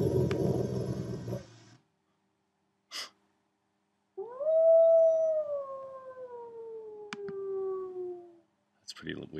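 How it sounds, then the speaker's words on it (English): A wolf howl sound effect rises into one long, clear, drawn-out howl that slowly falls in pitch, framed by short bursts of other noise and stretches of silence. "Howling wolf."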